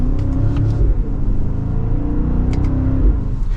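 A 2024 BMW X5 M60i with a V8 engine rumbles through its exhaust on the overrun, giving a low, burbling drone with faint crackles and a couple of brief pops, heard close and steady without talk.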